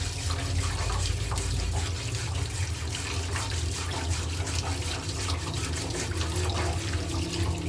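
Water runs steadily from a tap onto an artificial stone mosaic piece as it is rinsed and scrubbed with a wire brush, a continuous close splashing with no talk over it.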